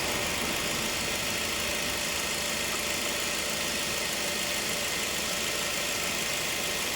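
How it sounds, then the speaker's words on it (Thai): A noisy air conditioning compressor runs in a Ford Focus with about 93,900 km, a steady droning engine-and-compressor hum with a faint whine, continuous and fairly close throughout with no talking. "คันนี้คอมแอร์มีเสียงดังนะครับ"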